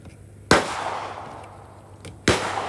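A CZ 457 rifle fires Lapua Center-X ammunition at a range, two sharp, loud shots about two seconds apart, each followed by a brief decaying echo, with no talking.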